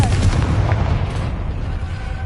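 A Confringo spell explosion in the Hogwarts Legacy video game on PS5 gives a loud, booming blast with a deep rumble that lingers and fades over a couple of seconds.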